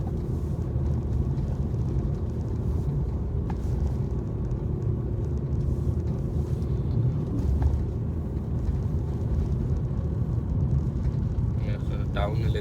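A car accelerates up to a 30 speed limit, its engine rumbling low and steady from inside the cabin while a driving instructor talks over the drone.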